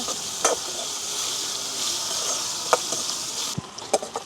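Onions and green chilies are stirred in a hot pan over a steady frying sizzle, with a few sharp scrapes and knocks of the utensil, the last near the end.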